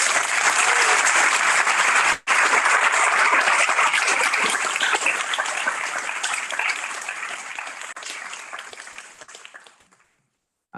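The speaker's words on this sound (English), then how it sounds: "So please join me in giving them a round of applause." An audience at a global health undergraduate commencement gives a round of applause, loud dense clapping from a large crowd that holds steady, then gradually thins and fades to silence near the end.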